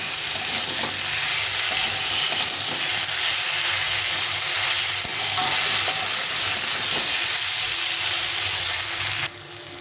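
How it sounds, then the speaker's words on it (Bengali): Tomato and potato sautéing for a fish curry, a loud, steady sizzle close up with rhythmic spatula stirring and scraping, easing slightly at the very end. "টমেটোটাও এটার সঙ্গে কষিয়ে নেব ভালো করে"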